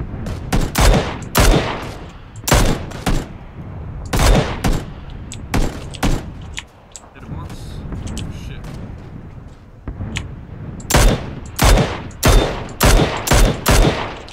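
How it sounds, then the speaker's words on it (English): Repeated bursts of gunfire in the battle royale game PUBG, sharp loud shots in quick volleys with pauses between, some clusters rapid like automatic fire, players' voices heard faintly in between. "We're getting shot."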